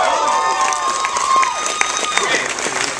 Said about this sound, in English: Can we please clap for Ray?